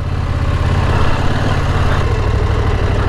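A KTM 790 Adventure motorcycle engine runs steadily and loudly up close, a constant low throbbing drone with a slight swell in the middle and no talk.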